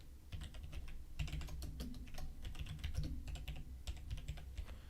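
Rapid typing on a computer keyboard, a close run of quick key clicks with irregular rhythm and small pauses over a low background hum.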